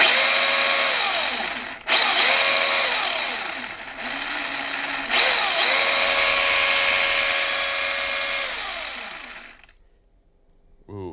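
A Milwaukee M18 cordless chainsaw running loud and close on a Milwaukee-style battery, its whine rising and falling through several light cuts with short dips between, then cutting off near the end.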